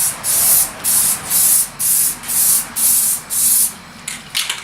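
A spray can lays a light coat of metallic paint onto a ported fiberglass subwoofer box in seven short, evenly spaced hissing bursts, close and loud, with soft handling noises at the end.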